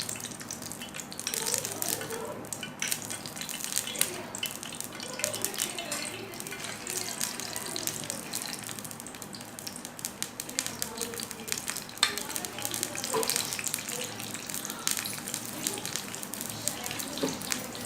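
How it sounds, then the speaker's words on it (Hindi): A sandwich fries in hot oil in a frying pan, giving a steady close sizzle and crackle with a few bubbling, stirring bursts, while a person talks over it. "ये हमने फ्राई पैन में ऑयल ले लिया है और ये ऑयल हमारा गर्म हो चुका है। अब हम इसमें ये सैंडविच ऐड कर दे रहे हैं।"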